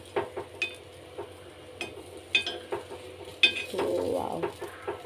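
Green gram kuzhi paniyaram being turned in the pan, with light clicks and scrapes of a utensil against the metal and a faint sizzle.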